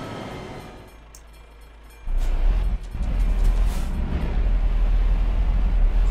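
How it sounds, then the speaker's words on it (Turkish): A train rumbles past at a crossing in a truck simulator game, a low steady roar that swells in and holds loud for several seconds. "mesela tren geçiyor şu an bak"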